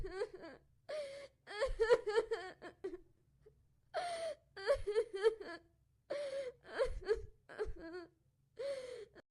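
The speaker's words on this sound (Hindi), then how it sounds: "बकरे को मारने के बाद महारानी जोर जोर से रोने लगती है।" A queen in a Hindi folk story wails and cries loudly in repeated sobbing bursts, with gasps and high moaning cries broken by short pauses.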